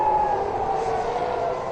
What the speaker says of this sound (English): In Tel Aviv, the sound of sirens reverberated throughout the city